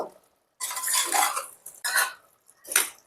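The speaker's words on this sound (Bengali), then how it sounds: "এবার এই সময় ভেজে রাখা আলুগুলোকে দিয়ে দেব। আবার একটু নাড়াচাড়া করে নেব।" Fried potatoes being stirred into a pot of Punjabi-style mutton curry, with three bursts of scraping and clattering spoon-on-pot noise separated by short silences, close and fairly loud.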